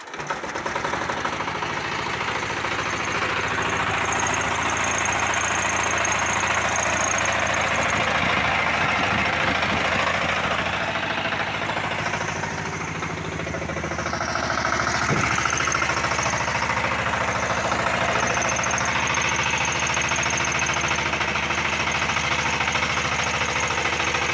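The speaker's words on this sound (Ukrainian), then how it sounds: "У нас мотор дизельний." A diesel engine runs continuously at a steady idle, a low droning hum with faint rattling knocks throughout.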